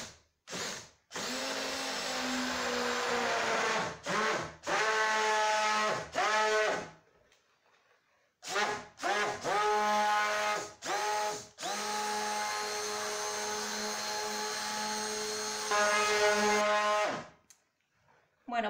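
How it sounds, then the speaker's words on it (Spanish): A stick blender whirs in bursts as it mixes sunflower oil and lard with lye water for soap. The loud motor starts and stops repeatedly, with pauses between runs. "Y ahora vamos a batir."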